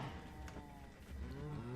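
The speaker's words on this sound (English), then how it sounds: "Cows." Cows mooing in Minecraft give a single drawn-out low moo that fills the short clip, close and alone with no voices over it.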